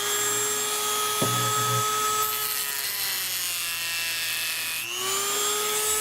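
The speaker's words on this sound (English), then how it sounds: "we're going to take our Dremel and cut" A Dremel rotary tool whines steadily at close range while cutting into a model part for a Matt Chapman Eagle 580 build, its pitch shifting as the cut loads it and a short scrape sounding early on.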